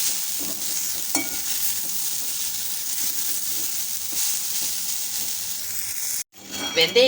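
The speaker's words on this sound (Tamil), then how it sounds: "கீரையை சேர்த்ததுக்கப்புறம் நல்லா கலந்துக்கோங்க" Spinach and lentil paste are stirred in a pan over moderate heat with a soft continuous sizzle and occasional scraping strokes, ending in a sudden cutoff followed by a few clattering knocks.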